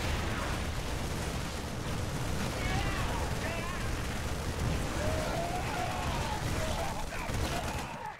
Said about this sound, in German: irgendwas ist da explodiert